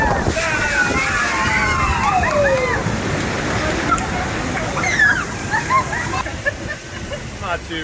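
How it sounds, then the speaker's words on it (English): Water sloshes and splashes continuously on the River Rapids raft ride at Animal Kingdom, a close, churning rush with occasional sharper splatters and people's voices mixed in. "So we're gonna do the rapids. There it is, the River Rapids."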